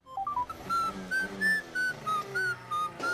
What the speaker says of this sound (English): It seems like our radio is picking up someone whistling.